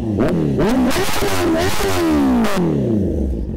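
A vehicle engine revs hard for a soundcheck on a street, the pitch climbing and falling in repeated throttle blips, loud and close with a rough clattering edge.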